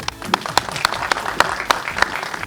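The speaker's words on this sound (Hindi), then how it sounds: "तालियां तो मारो" A crowd of fans in Chandigarh applauds at a film team's meet-and-greet event: loud, dense clapping with sharp individual claps standing out and some voices underneath.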